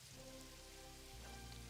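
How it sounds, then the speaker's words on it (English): Steady rain falling in the game Satisfactory, a soft continuous hiss that carries on without a break, with a low hum that swells partway through. "How is it raining?"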